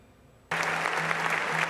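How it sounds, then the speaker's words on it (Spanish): Applause fills an auditorium at a journalism award ceremony, a dense, steady clatter of many hands that bursts in abruptly after a short quiet moment and carries on loud and even. "En medio de un auditorio resonante de aplausos"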